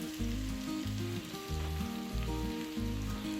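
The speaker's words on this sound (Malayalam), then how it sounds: "അപ്പോൾ ഇതെല്ലാം ഒന്ന് നല്ല മൂക്ക തന്നെ ഒന്ന് ഫ്രൈ ചെയ്തെടുക്കാം." Rice-flour-coated chicken frying in a pan, a steady close sizzle running under loud, rhythmic background music throughout.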